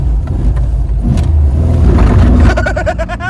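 A Porsche 914 doing a burnout: a loud, steady engine roar with rough low rumble throughout, rising near the end into a harsh, wavering high squeal of spinning tyres, close by.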